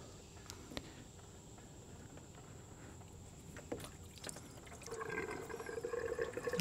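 Residual coolant from the upper inlet radiator hose of a Chevrolet Sonic 1.4 Ecotec runs out into a catch pan below, starting as a thin patter and swelling into a steady, louder trickle of liquid near the end.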